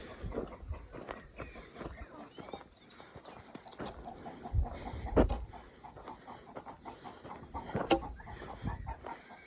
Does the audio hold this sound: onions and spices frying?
no